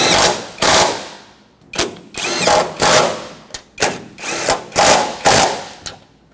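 Impact wrench tightening strut mounting nuts on a 2006-2010 Hyundai Sonata during an upper control arm job, a close, loud series of rattling bursts of varying length separated by short pauses.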